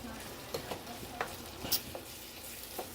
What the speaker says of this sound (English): I'm going to put the camera down and get another good stir on this